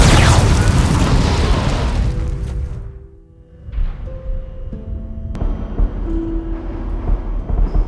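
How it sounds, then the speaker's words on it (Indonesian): A suicide bomb explosion sound effect in a scene of war against the Taliban and Al Qaeda: one loud, close boom at the start that rumbles and fades over a few seconds, followed by low, steady droning tones. "itu adalah serangan bom bunuh diri"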